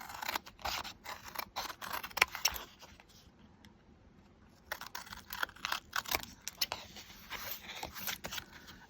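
Scissors snip through paper strips in a craft project, giving quiet, close, irregular crisp cuts in quick runs that stop for about a second and a half before resuming.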